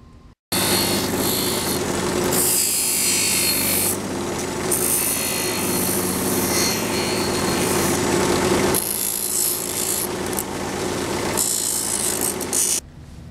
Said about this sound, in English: with a Dremel tool, trim some of this away